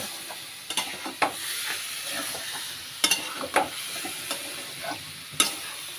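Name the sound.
sautéing chicken curry in a pan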